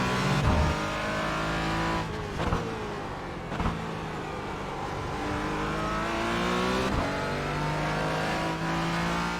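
A race car engine in the iRacing sim-racing game drones loudly and steadily, its pitch rising with acceleration and dropping sharply at several quick gear shifts.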